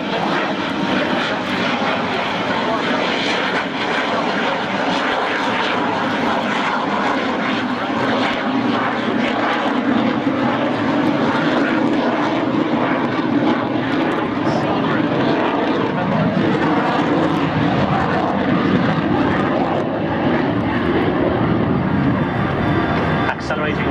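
A Saab Gripen fighter jet accelerates during an air show flypast. Its powerful, sustained engine roar fills the air, with a commentator talking over it throughout.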